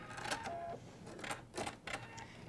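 Short machine bursts of a sewing machine stitching across a fabric box corner: a few quick rattling runs separated by brief pauses, close by with no voices.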